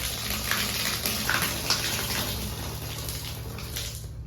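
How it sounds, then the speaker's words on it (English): Outdoor shower in the Maldives running with strong water pressure, a steady close splashing gush that continues throughout with faint hiss and patter. "I need to show you how the water comes out of here because it's so nice."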